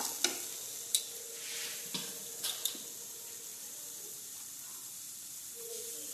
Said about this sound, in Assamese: এতিয়া ইয়াতে চেনিখিনি দি দিছোঁ কেৰাহীত আৰু এয়া অকমান চেনিখিনি গলাই লওঁ।